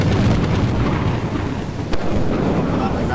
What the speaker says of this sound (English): God, it's lightning. Yeah, it is lightning.